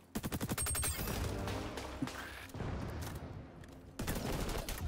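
M4 assault rifle fire in the XDefiant shooter game, rapid loud bursts of shots in quick succession, continuous across the clip with brief pauses.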